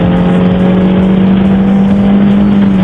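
A stock Toyota Corolla's 1.8-liter 1ZZ-FE VVT-i engine, rated at 120 horsepower, runs at steady high revs with a loud, close, buzzing drone and strong low hum, and no one talks.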